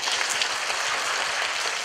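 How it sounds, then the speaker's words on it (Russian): Children clapping their hands as an audience during a Morozko fairy-tale performance, a continuous dense patter of many small hands that stays even and fairly loud throughout. "вы начинаете громко хлопать в ладоши"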